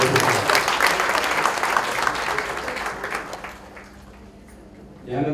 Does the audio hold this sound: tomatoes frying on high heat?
no